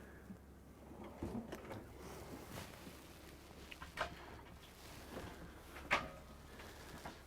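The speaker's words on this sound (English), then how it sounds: "self-closing drawers" Quiet self-closing drawers in a 2020 Winnebago Navion motorhome sliding open and shut, with soft thuds and a couple of sharper clicks near the middle and end, low room hiss throughout.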